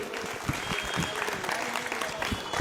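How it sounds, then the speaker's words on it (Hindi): Loud audience applause from a crowd at a stage event, dense steady clapping filling the whole stretch. "एक बार जोरदार तालियां"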